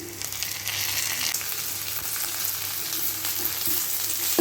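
Onions and tomatoes fry in a pan for tinda gravy, a steady, close sizzle that carries throughout with light stirring scrapes and no talking.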